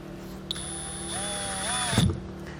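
A drill with a hole saw bores into the plastic rear bumper of a 2017 car during a trailer hitch install, giving a steady high whine that rises in pitch mid-cut, then a brief grinding burst before stopping.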